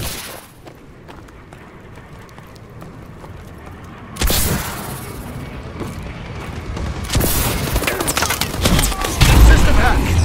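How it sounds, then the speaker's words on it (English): Enemy bombing run in the shooter game Call of Duty: Advanced Warfare, on a free-for-all match on the Retreat map: loud rumbling explosions burst in twice over steady background game noise, swelling and staying heavy to the end. "Enemy bombing run overhead."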